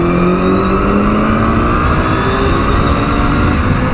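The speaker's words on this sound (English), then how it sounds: "What an amazing noise of both these bikes together. They have some sort of harmonic resonance when you get the revs right." Two Kawasaki 350 Four two-stroke motorcycles rev together, a loud, steady, close engine drone with layered tones that slowly climb and blend into a harmonic, buzzing resonance.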